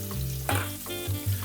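Breaded red snapper fillet pan-frying in hot oil, giving a steady close sizzle with a few bursts of louder crackle and spatter, no voices.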